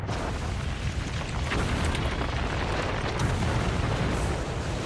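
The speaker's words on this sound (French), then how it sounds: "1200 canons allemands ouvrent le feu." A dense, continuous roar of distant heavy gunfire from about 1200 German cannons, booms blurring together into one relentless rumbling barrage.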